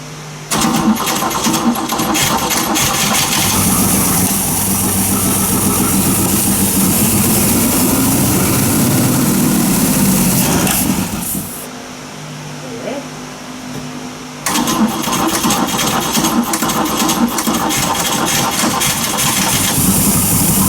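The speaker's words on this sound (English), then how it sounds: "I think we're about to see if this engine's going to crank." A 1976 Chrysler car engine runs loud and steady, briefly dropping away near the middle before roaring back; no distinct starter cranking stands out.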